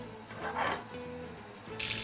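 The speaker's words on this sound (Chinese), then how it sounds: "接着我们用这个温热水给它冲洗一下" A whole chicken rinsed under warm running tap water, a close steady gush and splash into a sink, briefly swelling louder near the end.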